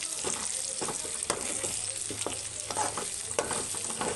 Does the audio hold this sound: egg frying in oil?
yes